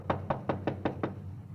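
Six evenly spaced knocks on a front door, sharp and fairly close, rapping in a quick steady rhythm and then stopping, with no voices over them.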